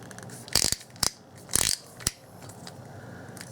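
Prying at the chuck of a weak Skil 7.2V Li-Ion screwdriver during a teardown: a few close, sharp metallic clicks and grinding scrapes in short bursts, then quieter handling noise.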